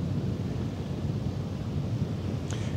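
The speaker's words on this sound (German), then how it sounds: "mit dem Wind müssen wir mal gucken. Der ist im Moment ein bisschen heftig." Strong wind at Hamburg harbour rumbles steadily into the microphone as a loud, continuous low buffeting roar, with a brief faint higher tone near the end and no voices.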